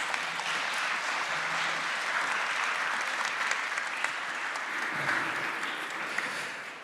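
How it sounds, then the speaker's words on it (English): Audience applause welcoming the Krakow Song and Dance Ensemble onto a stage at a university anniversary ceremony, a steady, full round of clapping from a large crowd lasting throughout and fading slightly at the end. "Always a good idea to welcome them with applause, please."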